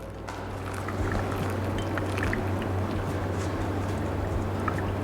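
Hot water is poured over Finca Soledad Sidra coffee grounds in a pour-over brewer, a steady soft trickling stream running continuously and close, with no talking.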